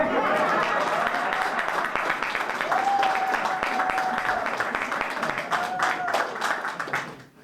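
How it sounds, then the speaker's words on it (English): A crowd applauds steadily and loudly throughout, with scattered cheers and a whistle-like tone rising over the clapping before it fades at the end. "Ooh, y'all need to clap for that."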